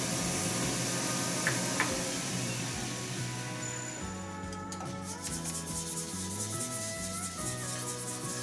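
A resin hybrid shaving brush handle is sanded by hand on a woodturning lathe, giving a steady close rubbing hiss with rhythmic strokes over a faint motor hum, no speech.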